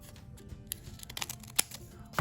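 Scissors snipping through a folded paper snowflake, a run of soft crisp cuts and rustles at close range with one sharper snip near the end, no voices.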